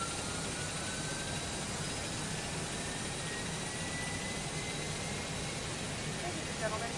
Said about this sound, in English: And I will let you hear for the engines.